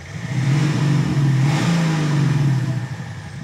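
BMW X5 3.5D diesel fitted with a Maxhaust active exhaust sound kit revs steadily for a few seconds, a loud, sustained engine drone that swells briefly mid-rev and holds close to the mic.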